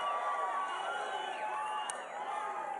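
A large rally crowd for Donald Trump in Las Vegas cheers steadily, a broad continuous wash of distant voices and whoops filling the hall without a break.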